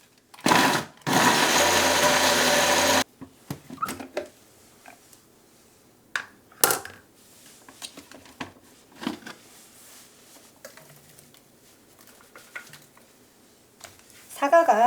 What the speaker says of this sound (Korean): 없으신 분은 이렇게 믹서기에다가 갈아가지고 하시면 되니까.